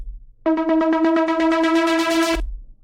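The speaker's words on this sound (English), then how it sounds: "But I'm just opening the filter." A sustained synth chord from the Serum plugin swells for about two seconds as its filter opens, growing steadily brighter and buzzier with a pulsing LFO wobble before cutting off, heard alone.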